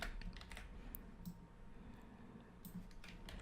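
Quiet computer keyboard keys pressed for a Ctrl J duplicate shortcut while building a digital collage, a few soft clicks scattered across a faint steady background, with no talking.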